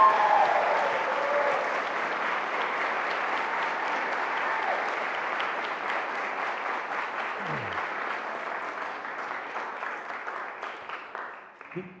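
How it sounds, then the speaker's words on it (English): Wedding guests applaud the bride on her wedding day, a dense, steady clapping from a sizable crowd that holds for about twelve seconds before tapering off, with a few voices mixed faintly underneath. "you are gonna turn and get a round of applause for how unbelievably beautiful you look on your wedding day"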